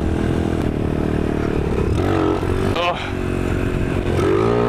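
A motorcycle engine roars loud and close during a second-gear power wheelie, holding high revs with a brief dip and surge, while a rider's voice is heard briefly.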